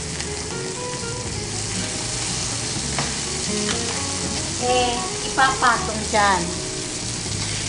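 Chicken breast frying in a pan makes a constant close sizzle, while brief spoken words and a few clinks of utensils rise over it near the end.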